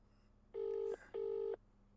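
Two long DTMF tones beep from a landline telephone being dialed in a horror video game, each about half a second with a short gap between, clear and close with no talk.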